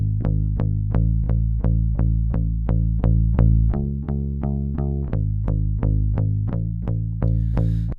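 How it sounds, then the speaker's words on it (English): Fender Precision Bass with a single-coil pickup, played dry with no effects: a steady run of about twenty evenly spaced plucked low notes, close and loud, shifting pitch midway, with no voices. "Fender P-Bass. It's a single coil."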